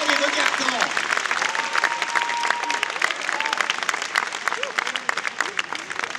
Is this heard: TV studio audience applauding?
yes